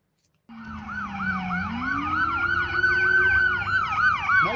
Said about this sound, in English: When the ambulance comes closer, the siren seems to become louder and higher pitched faster.